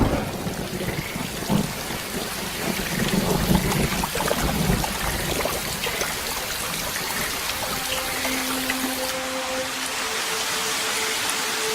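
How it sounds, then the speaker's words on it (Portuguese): Steady rain hisses across the Brazilian Pantanal, a dense wash of falling water with low rumbles underneath, fading slightly toward the end. "A chuva já estava caindo nas montanhas ao redor e agora chega ao Pantanal propriamente dito."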